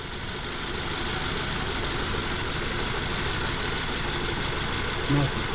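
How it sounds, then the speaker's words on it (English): A 2011 Ford Transit Connect engine idles with a faulty number 2 spark plug, giving a steady, loud, continuous rumble with a faint rough pulse and a brief bump near the end. "if what we believe to be true is that number 2 spark plug is toast, then it should essentially continue to idle at this level"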